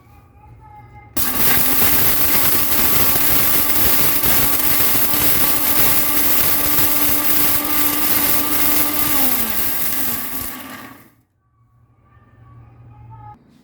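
A mixer grinder grinds traditional Goan samarachi kodi masala powder, a loud steady whirring roar that runs for about ten seconds, winds down slightly near the end and then stops, with quiet room sound before and after.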